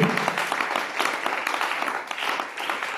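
A church congregation at a French-language worship service claps and cheers for the Lord, a dense, steady burst of applause from a crowd that fills the full three seconds.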